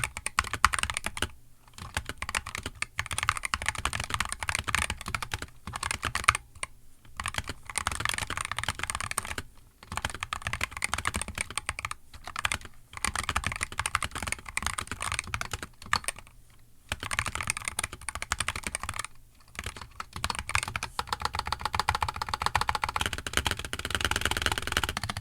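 Sustained, fast typing on a Razer Huntsman V3 Pro keyboard produces dense, even key clacks in bursts, broken by several short pauses, close and clear with no voices.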